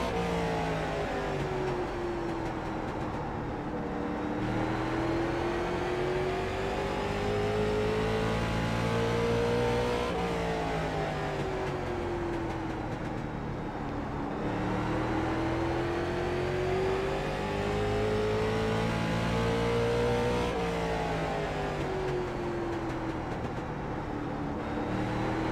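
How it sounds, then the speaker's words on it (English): Late model race car engine in the iRacing game at Martinsville, revving hard under full throttle with rising and falling pitch through the corners, loud, steady and continuous with no talking. "The way that this car's sounding in the center when we jump on the gas hard"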